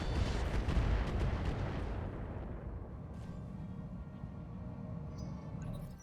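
Enemy weapons fire in the mech combat game RogueTech, a heavy booming blast that rolls into a long fading rumble, loud at first and then sustained low under the game's sound.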